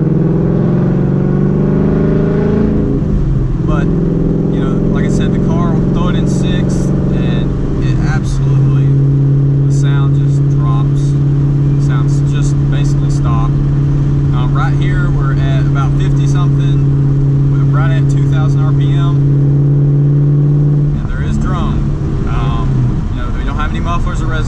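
A car engine runs through a cat-back exhaust with no mufflers or resonators, holding a steady droning tone near 2,000 RPM with a shift in pitch partway through, close and loud under a talking voice.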